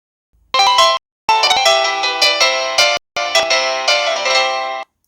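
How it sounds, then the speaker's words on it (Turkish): An Android phone rings loudly and close, triggered remotely through Google's Find My Device, a bright repeating electronic melody in three bursts separated by brief gaps. "Şimdi telefonumun uzaktan zilini çalıyorum arkadaşlar."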